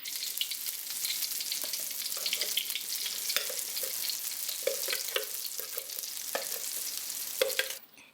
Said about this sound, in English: And then you want to fry it gently on low heat.